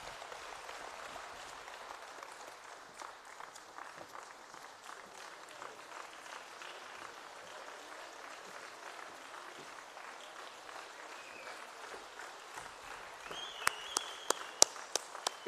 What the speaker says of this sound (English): Big round of applause for the MEC.